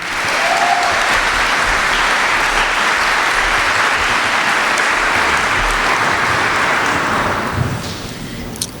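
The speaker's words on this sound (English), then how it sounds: "Please give a round of applause to Dr. Jackson." A graduation audience of families and classmates claps loudly and continuously for a speaker, a dense, even wash of applause that fades near the end.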